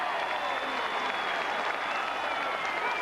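Football crowd at a 1998 Western Bulldogs versus North Melbourne match cheering and applauding, a dense, steady roar of clapping and voices filling the stadium throughout.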